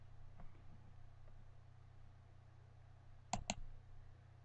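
Two quick computer mouse clicks sound in close succession near the end, crisp and close against a quiet background hum.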